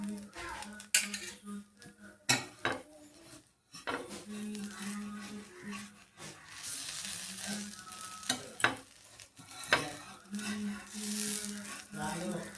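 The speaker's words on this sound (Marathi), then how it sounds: "माझं सगळं एकदम मिक्स करून घेऊया. त्याच्यामध्ये मीठ टाकून घ्यायचं" Fasting dosa batter being mixed with salt in a pot, with steady scraping and clinking of a utensil against the vessel, in irregular bursts and short pauses, close and fairly loud.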